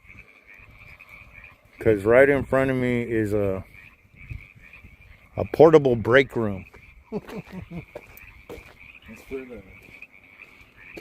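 Frogs croak in a steady, pulsing chorus throughout, with someone talking loudly over it in bursts.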